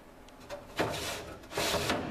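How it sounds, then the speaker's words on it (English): Kitchen drawers in a house interior sliding open and shut, two rumbling wooden slides each ending in a soft thud, close and clear with no talk over them. "Drawers work."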